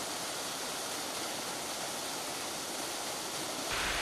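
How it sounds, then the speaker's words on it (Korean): Waterfalls in the Myohyang mountains in autumn's dry season, a dense, steady rushing roar of falling water, continuous and fairly close with no voices. "갈수기인 지금도 폭포가 이렇게 창피하게 떨어지고 있습니다"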